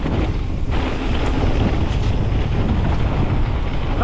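Strong wind buffets the microphone while riding an e-bike on a trail, a loud, continuous rushing roar with gusty low rumble and no break.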